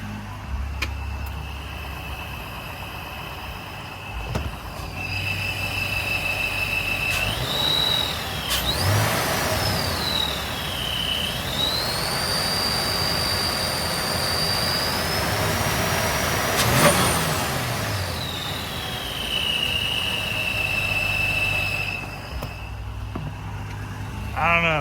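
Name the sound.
car engine with ProCharger supercharger revving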